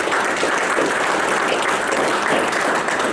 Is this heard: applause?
yes